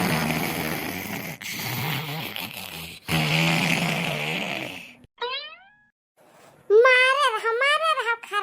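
Exaggerated cartoon snoring in an Awadhi comedy cartoon: several long, rasping snores, then a whistling exhale with falling tones, followed by a cartoon voice.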